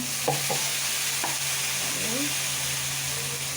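Ginger, garlic and onion fry in a pan with a constant close sizzle, a few sharp utensil clicks early on and stirring scrapes over the crackle.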